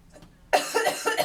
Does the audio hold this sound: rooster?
no